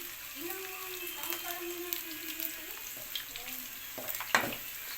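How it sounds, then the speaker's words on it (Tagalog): Garlic sizzles and fries in plenty of hot oil in a pan while making pork adobo with papaya, a steady close crackle with occasional stirring scrapes and no talking. "Gisa-gisa na natin dito yung bawang."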